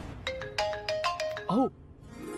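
A mobile phone ringtone plays a quick run of bright melodic notes, then a short warbling chirp, fairly close over a low background hum.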